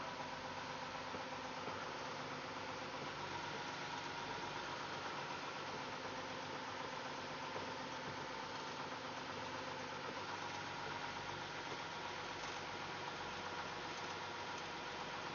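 A fishing boat's engine drones steadily while trolling for winter king salmon in Southeast Alaska, a constant mid-pitched hum with a hissing, vibrating texture and no talking.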